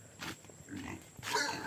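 Farm pigs in the Philippine countryside give short, quiet grunts and snorts, a few scattered bursts close by.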